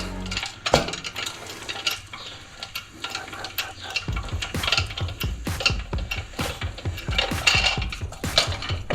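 A vehicle suspension spring on a YXZ build compresses as it is released, giving a burst of metallic clanks and ratcheting clicks in rapid, irregular succession, close and fairly loud with no talk.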